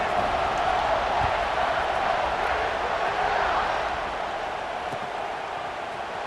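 Stadium crowd in EA Sports College Football 26 rumbles and cheers in a broad, continuous roar before a kickoff, loud at first and easing slightly toward the end, with no one talking.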